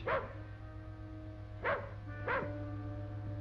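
Three sharp dog barks spaced apart over a steady low hum, with no talking.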